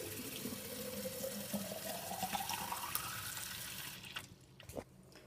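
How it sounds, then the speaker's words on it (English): Hot tap water runs into a glass jar being washed, a steady splashing stream whose pitch rises as the jar fills, then breaks off into a few drips and clinks near the end. "you will want to wash your glass jar thoroughly with hot water to clean it."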